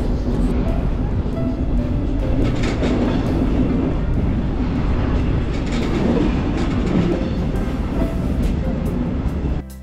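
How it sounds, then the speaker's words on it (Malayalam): Trains rumble across the Hohenzollern railway bridge over the Rhine in Cologne, heard from close by as a loud, steady roar of rolling wheels with faint rhythmic clatter throughout. "ഇങ്ങനെ ട്രെയിൻസ് പോകുന്നത് വളരെ അടുത്ത് നിന്ന് നമുക്ക് ഒബ്സർവ് ചെയ്യാൻ"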